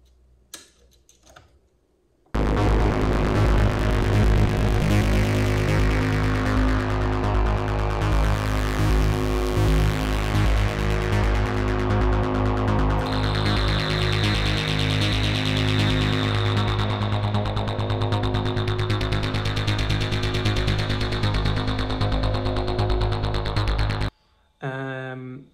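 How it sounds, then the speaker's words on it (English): A thick, buzzing modular synth bassline with gritty distortion from a Guillotine module, looping steadily and loudly, with a high whining tone joining partway through. "I want to put actually the bassline through the Guillotine. So this adds a little bit of distortion."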